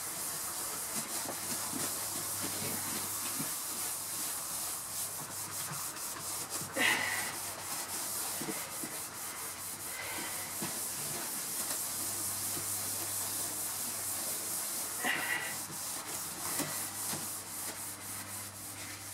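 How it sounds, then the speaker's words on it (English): Long steady scrubbing with a scouring pad while cleaning the bedroom interior of a 1974 Silver Streak trailer, a continuous harsh rubbing hiss with a few louder strokes, close and without talk. "And use the scouring pad."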